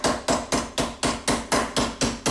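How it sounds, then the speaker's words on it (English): Eight evenly spaced mallet blows strike a sheet metal rib flange being formed over a radius, each a sharp close impact with a short ringing decay, in a steady rhythm. "when you're hammering"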